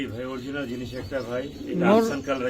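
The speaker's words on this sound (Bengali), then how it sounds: "এত বড় সাইজের এক জোড়া রেসার বেলজিয়াম ব্লাড লাইনের" A pair of large Belgian bloodline racer pigeons coo close by in repeated throaty, rolling calls, with a swelling louder coo near the end.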